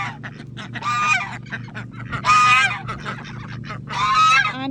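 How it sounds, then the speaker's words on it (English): A grouchy goose at a farm honks loudly three times in harsh, bursting calls spaced about a second apart, close by, over a steady low hum and scattered softer clucks. "Grouchy goose."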